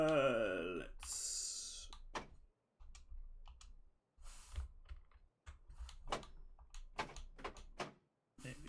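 A train door slides in Train Sim World 3, a burst of mechanical rushing and clatter at the start followed by scattered clicks and knocks under someone talking.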